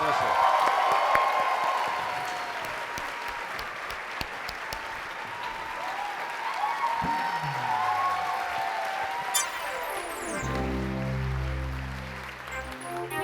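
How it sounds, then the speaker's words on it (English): Audience applause at a Nickelodeon historical celebration honoring an animation figure, a sustained dense roar of clapping from a large crowd that fills the room for about ten seconds before music with a steady beat takes over. "Big round of applause for Vanessa."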